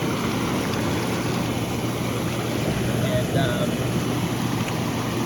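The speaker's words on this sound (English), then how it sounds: "Just run the bubbles for a little bit." The bubble jets of an inflatable hot tub run with a steady loud rushing, bubbling roar, continuous and close, with a brief voice at the start.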